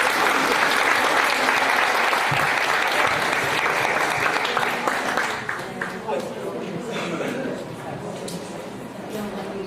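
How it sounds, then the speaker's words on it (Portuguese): A room full of people at a cognitive behavioural therapy workshop applauds steadily, dense clapping that slowly thins and fades toward the end, with a few voices underneath. "Vamos aplaudir você."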